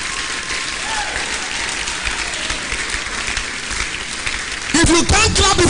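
A church congregation claps steadily through a praise service, dense applause mixed with crowd noise, before a voice cuts in loudly near the end.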